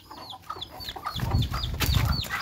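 A rooster being chased and caught gives a run of repeated clucks and squawks close by, growing louder and more frantic, with scuffling noise building underneath.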